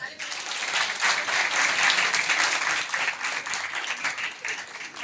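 Teachers at a curriculum training programme applaud together, a steady wash of clapping from a crowd in a hall, moderately loud and continuous.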